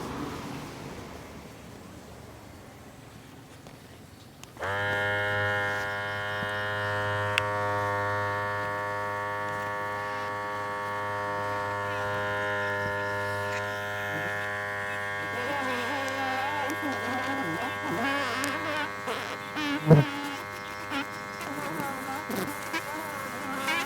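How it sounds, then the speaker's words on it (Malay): Stingless kelulut bees buzz steadily during a honey harvest, a dense droning hum that starts abruptly and continues close and loud, with rustling and handling noises over it. "Ada lebah ni."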